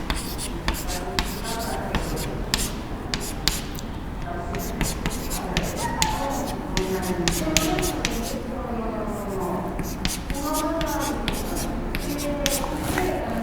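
Marker or chalk strokes tap and scratch on a board during a physics lecture on the kinetic theory of gases, with quick repeated strikes and swipes while a teacher talks over them.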